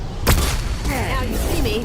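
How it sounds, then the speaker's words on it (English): A flashbang grenade goes off in the video game Mass Effect, a single loud sharp bang early on followed by a ringing, wavering tone and game noise, with voices talking over it. "Don't look at the flashbang."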